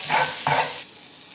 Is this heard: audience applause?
no